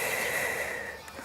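A person exhales forcefully through the mouth during a fitness class exercise, a single breathy rush of air up close that tapers off near the end.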